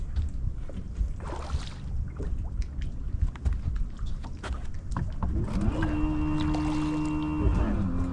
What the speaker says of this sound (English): Trolling motor's kicking up mud.